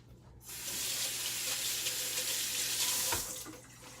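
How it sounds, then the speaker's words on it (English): A kitchen tap runs steadily into a sink while someone washes their hands, a close continuous gush starting after a brief quiet moment and tapering off at the end. "Let me wash my hands first."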